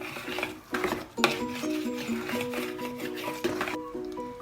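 A utensil stirs flour into revani batter in a bowl, making repeated clinks and soft scrapes at close range over a faint tonal background.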